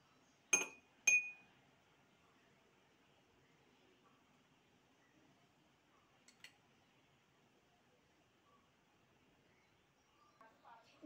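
A spoon stirring salt into water in a glass gives two sharp, close glass clinks at the start. Then it goes near-silent, with a faint tap midway and a few soft clinks at the end.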